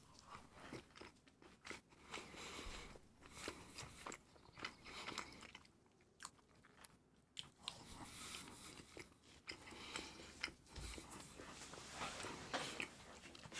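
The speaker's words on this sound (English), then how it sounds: "sorry for the munching noise" Close, crisp crunching and chewing of a slice of toast, repeated bites in an uneven rhythm, heard alone with no talk over it.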